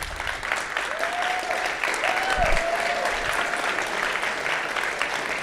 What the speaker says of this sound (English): Let's give a big round of applause for James, Owen, and Destiny,